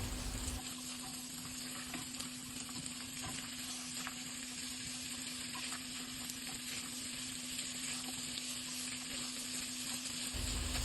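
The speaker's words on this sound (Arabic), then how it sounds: "شوحت الفول كويس مع البصل والثوم" Crushed fava beans sauté with onion and garlic in a pan, giving a soft, continuous sizzle with faint stirring, all over a low steady hum.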